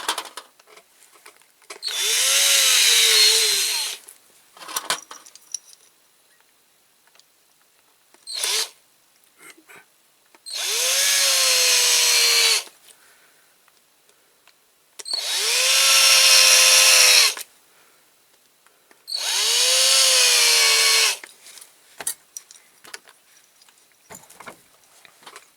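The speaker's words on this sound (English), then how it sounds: "I have to drill a little bit more out of that" A drill bit bores out metal on a Corgi Massey Ferguson 65 model tractor, whining in four separate bursts of a few seconds each with faint clicks and handling noises between them, close and alone.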